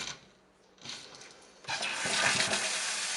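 Water from a Moen kitchen faucet starts, pauses, then gushes steadily into a sink, a bright rushing hiss growing louder toward the end.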